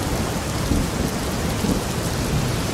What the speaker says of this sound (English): still battling the storm but making progress